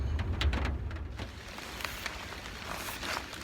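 Rain falls outdoors in the woods during hunting season as a steady soft patter and hiss. A low rumble sits underneath, with a few louder drops or rustles standing out.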